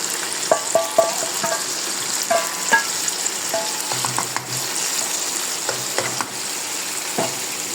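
Meat stirred and fried in a pot with spices, loud sizzling close by broken by repeated clanks and scrapes of a spoon against the metal.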